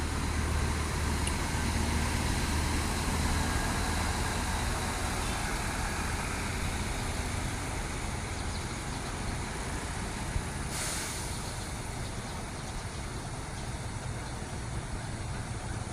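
A Scania long-distance bus idles at a busy bus terminal at night, a steady low rumbling drone that holds throughout with constant loudness and a brief hiss partway through.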